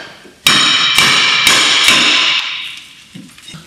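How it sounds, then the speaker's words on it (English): A hammer strikes a seized brake disc on a Renault Clio. Four loud, close metallic blows land in quick succession, each with a bright ringing tail that fades after the last hit. "just get yourself a hammer and go to town with it."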